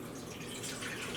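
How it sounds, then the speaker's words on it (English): Homemade vinegar trickling and dripping through a metal mesh strainer, a steady, quiet liquid patter without a break, with no voices. "pour it in here and leave it so that it strains all the way through"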